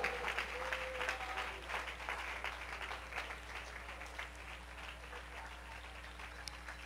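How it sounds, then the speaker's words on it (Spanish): Congregation applauding during a church sermon, a continuous moderate patter of many hands clapping in a reverberant hall, with a low steady hum underneath. "Dele un aplauso a Él en el nombre de Jesús"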